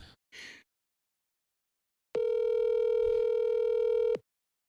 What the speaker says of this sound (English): I'm only going to let it ring 5 times because I'm not wasting more time on this